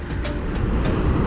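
Road traffic passes by steadily and loudly, a constant low engine rumble and tyre roar with brief swells as vehicles go past, heard close with no talking.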